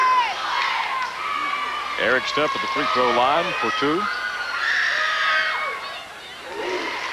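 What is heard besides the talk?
basketball championship game crowd cheering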